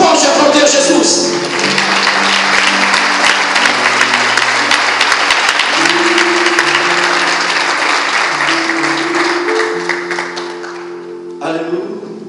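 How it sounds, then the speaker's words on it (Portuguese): A church congregation applauds, sustained loud clapping that carries on for several seconds over sustained organ or keyboard chords and fades slightly toward the end. "Pode aplaudir Jesus."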